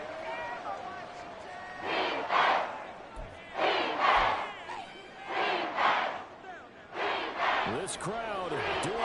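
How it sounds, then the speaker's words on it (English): Football stadium crowd roaring during an Eagles game against Dallas in a Week 18 playoff-deciding matchup, loud swelling waves of cheering and shouting in repeated bursts, with commentators talking over it. "This crowd doing all they can."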